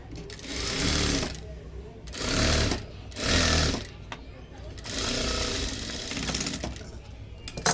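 Sewing machine stitching a folded blouse sleeve with a number-five stitch, running in several loud bursts of steady whirring separated by short pauses, with someone talking between and over them.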